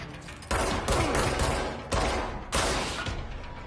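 Heavy gunfire in the Control video game, with sharp bursts of shots and loud blasts arriving in several waves close up, each onset followed by a dense, sustained roar.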